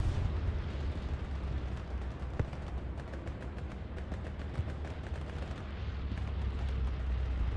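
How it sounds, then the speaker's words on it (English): Battlefield explosions and artillery in the World War II shooter Hell Let Loose, muffled distant booms and scattered gunfire cracks over a low rumbling din, with a few sharper bursts standing out. "As explosions are heard in the distance, I do think a tank went down somewhere."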